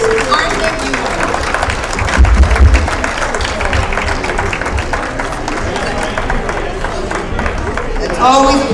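A full room at a veterans' social dinner in North Reading breaks into a big round of applause for Sue, dense clapping from the crowd with some chatter mixed in, swelling near the middle and again at the end.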